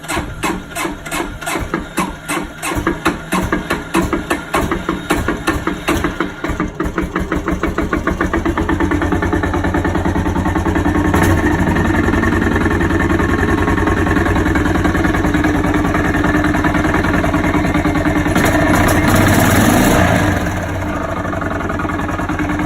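A Kawasaki 400 barn-find motorcycle engine runs loud and close, first chugging with an uneven, pulsing beat, then settling into a steady, continuous idle.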